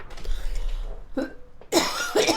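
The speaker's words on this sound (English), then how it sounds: "I coughed." A person coughs close to the microphone during a casual chat, with a short throaty burst followed by a louder, harsher rasping cough over faint background noise.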